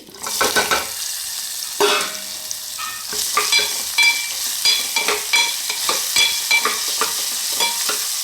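Onions frying in hot oil with cumin, curry leaves, urad dal and asafoetida for ridge gourd chutney, a steady close sizzle broken by repeated scraping strokes of a spoon stirring the pan, no voices.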